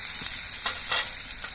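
Mixed vegetables fry in a hot wok (kadai) with an even hissing sizzle and a few quick stirring scrapes, close up and wordless, over just over a second and a half.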